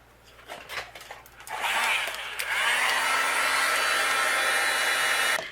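A heat gun melts white embossing powder on a stamped card, its steady, loud blowing hiss switching on after a few soft handling taps and running unbroken to the end.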